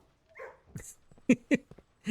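Puppies in the video game Blue Prince whimper and yip, a few short, close, high-pitched whines and small barks with brief gaps between them.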